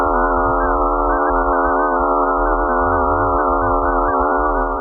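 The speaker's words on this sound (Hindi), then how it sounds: "और ये है एक कॉमेट की आवाज जब वो स्पेस में ट्रैवल करता है।" Sound of a comet traveling through space, heard as an eerie, steady electronic drone of layered warbling tones that hold at even loudness for about five seconds with no voices.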